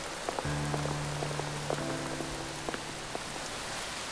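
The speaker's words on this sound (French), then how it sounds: "Et sous la pluie en plus, ah, bravo la jeunesse." Steady rain pours down in a French cartoon about a dog on a wet, gloomy day, a continuous hiss with scattered droplet taps and a faint low tone underneath, no voices.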